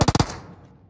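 Bursts of automatic gunfire from a shooter video game, three or four rapid loud shots in quick succession at the start, followed by a decaying echo tail.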